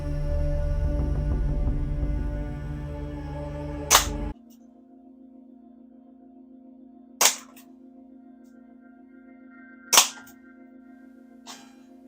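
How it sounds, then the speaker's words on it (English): An airsoft gun fires single sharp cracks, three shots a few seconds apart, each loud and near against a quiet steady hum, after a stretch of louder background noise. "Fiona, you've got 10 shots, you only need 3."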